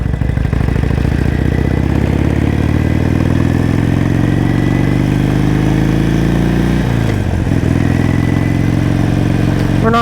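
A motorcycle engine runs steadily and loud throughout, the pitch of its rumble gradually climbing as the bike pulls away and accelerates, then dipping around a gear change before settling again, ridden out in freezing cold weather.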